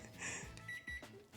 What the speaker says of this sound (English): Maybe the cook timer.